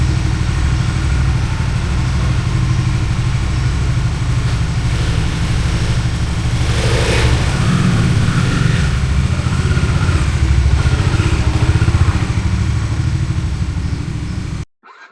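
A Hero XPulse 200 motorcycle rumbles continuously and loudly up close as it sets off on a ride from Hyderabad toward Narsapur, with a steady engine drone and mild revving before it cuts off abruptly at the end.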